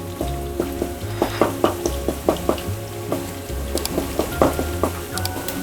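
Mung dal pakoras fry in hot oil while a slotted spoon spreads the oil over them, giving a loud, close, continuous crackling sizzle with rhythmic scraping and splashing strokes and no talking.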